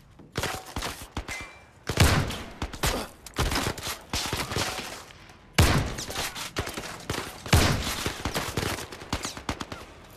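Shotgun fire in the VR shooter game Zero Caliber comes as loud, close blasts in repeated bursts with short pauses between volleys and no talk.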